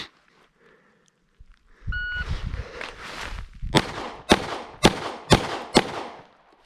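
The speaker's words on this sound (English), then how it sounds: "Our first stage is to draw and fire 5 rounds in 5 seconds." A Glock 48 pistol on a range fires five sharp, loud shots in an even rhythm, roughly half a second apart, after a short electronic timer beep and some rustling of the draw.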